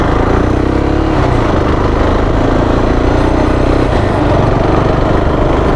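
A motorbike engine roars loudly and without a break while riding, as the throttle is eased off and then opened a little. The engine note stays dense and close and swells and dips only slightly.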